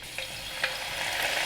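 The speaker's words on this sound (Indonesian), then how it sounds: "Goreng daun jeruknya bisa juga dicampurkan di penggorengan kacangnya ya" Kaffir lime leaves frying in hot oil at medium heat, a steady close sizzle with a couple of brief crackling pops rising over the continuous hiss.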